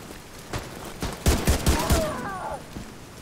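Gunfire in the video game The Division 2, a quick burst of four or five sharp close shots with a short echoing tail, then quieter sounds after.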